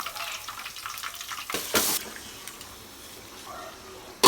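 Beef added to hot oil with fried onions and garam masala in a pan for a Bengali beef-with-papaya dish sizzles in a close, loud burst, with stirring noises and a softer sizzle continuing afterward.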